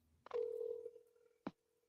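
Telephone tone while a call is placed: a steady single tone starting abruptly, with a click before it and another sharp click near the end, fairly faint and alone.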